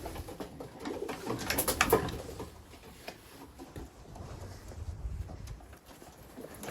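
Pigeons coo softly and continuously in an enclosed space, with occasional wing flutters and shuffling mixed into the low murmuring.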